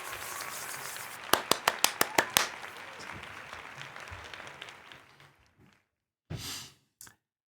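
A short burst of hand clapping, a handful of sharp claps in quick succession, soft and close, followed by quiet breathing and a sigh-like exhale.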